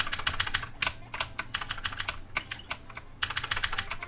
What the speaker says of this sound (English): It's not easy to play on the keyboard, though.